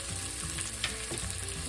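A small onion fries in a warm pot, a dense, steady sizzle heard up close for a moment, with faint scrapes and no voices.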